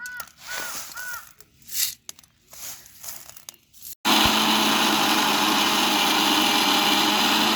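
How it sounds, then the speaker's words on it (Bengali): A mixer grinder whirs loud and steady, grinding roasted spices for homemade Horlicks in a kitchen, a continuous harsh roar that starts abruptly after a stretch of other background noise. "মিক্সারে দিয়ে গুঁড়ো করে নিয়েছি"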